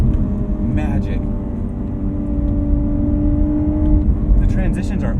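A 2020 Lotus Evora GT engine accelerating hard through a sharp left turn, a loud steady drone from inside the cabin, with a driver talking over it.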